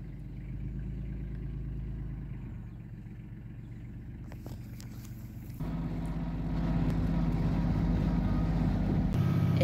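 An Antonio Carraro Tigrecar 3200 mountain tractor drives through a meadow and mud, its diesel engine a steady low rumble that swells louder partway through, with occasional clatter from the ground and machine.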